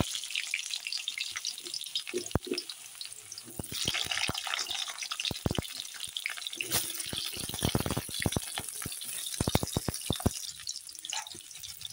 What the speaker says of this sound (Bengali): তেলে আমি প্রথমে এই তো এখানে সব কিছু নিয়েছি, আলু, আদা, লঙ্কা, আলুটা ভেজে নিচ্ছি